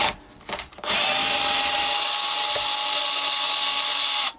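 A high-pitched power driver or drill whines steadily for several seconds while removing screws from a six-screw Strat guitar bridge, after a few short bursts at the start, then stops abruptly.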